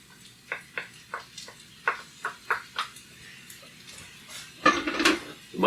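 A spoon scrapes and clinks against a pan while stirring corn into sausage fried rice, a run of sharp, regular taps followed by a louder flurry of metal clatter, close up with no talking.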